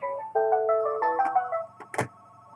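A telephone ringtone plays during a radio weather segment, a short melodic electronic jingle of stacked steady tones with a low background hum, ending in a brief clatter as if the handset is picked up.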